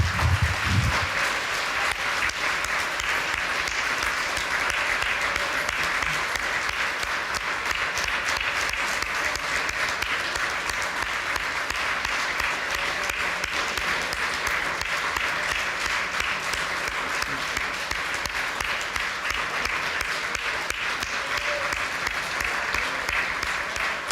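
A church congregation claps loudly and steadily for Jesus during a sermon, a sustained wash of applause lasting over twenty seconds, with a brief low thump at the very start.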